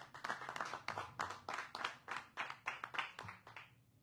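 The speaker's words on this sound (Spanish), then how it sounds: "Miguel Tonatiuh Aguilar Sarao, para quien pido un fuerte aplauso." Applause from a press-conference audience announcing San Francisco festivals 2024, steady clapping of many hands for about four seconds, moderately loud and continuous with no talk over it.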